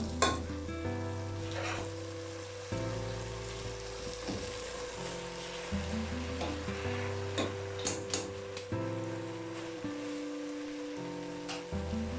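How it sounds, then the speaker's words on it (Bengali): Raw rice and mung lentils fry in a pot for bhuna khichuri, giving a busy crackling sizzle like rain on a surface, with frequent stirring scrapes throughout. "এখন আমি চাল আর ডালটা এর মধ্যে দিচ্ছি ভাজার জন্য"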